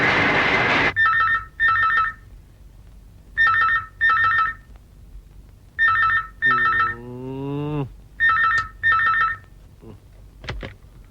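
A telephone rings early in the morning, sounding repeated paired electronic trills with short gaps between them, clear and alone, broken once by a falling warbling tone and ending with a sharp click.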